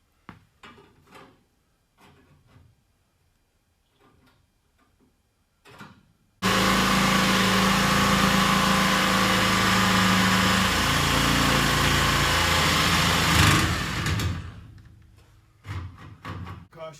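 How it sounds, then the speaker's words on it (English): A cutting wheel bites into steel C notch plates for a 1970 Blazer/C10, giving a loud, harsh continuous grinding whine for about eight seconds. Quiet clatter and handling noises come before it, and it trails off afterwards. "then we'll break out the cutting wheel"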